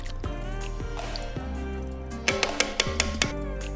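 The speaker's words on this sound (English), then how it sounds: "Top it off with beef or game stock so the meat is submerged." Beef or game stock poured into a venison stew pot, a steady liquid pour with wet drips and gurgles and a run of splashy plops toward the end, close and alone.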